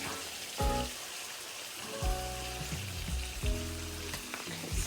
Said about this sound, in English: all I'm doing now is just frying this up